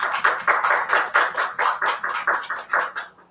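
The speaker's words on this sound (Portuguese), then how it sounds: "Palmas para as nossas convidadas" A small academic-event audience clapping for invited guest speakers, with quick, rhythmic, close claps in a steady run of distinct strikes, moderately loud and alone, tapering off at the end.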